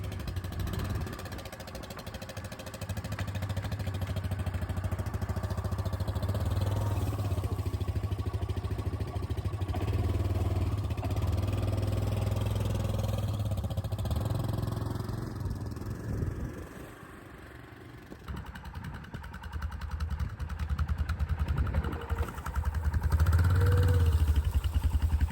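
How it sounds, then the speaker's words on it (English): ATV four-wheelers rumble off an enclosed trailer, a steady mid-pitched engine drone running close and loud for most of the stretch, dipping briefly before revving back up with some clatter. "I'm gonna get these four-wheelers unloaded"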